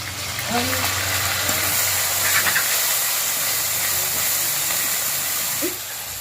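Onion, ginger, garlic, cumin and chili paste sizzling in a hot pan for a silver carp fish curry: a loud, close, continuous hiss with a few faint clinks, easing slightly near the end.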